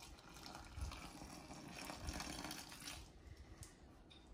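Water pours into a bowl with a soft, steady splashing rush that fades toward the end, quiet and close, set in a kitchen with a chimpanzee baking Christmas cupcakes.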